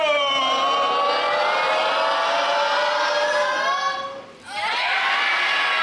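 Wrestling crowd at the Powerhouse during an APW Below Zero show, a loud sustained roar of cheering and shouting close by, dipping briefly near the end before surging back.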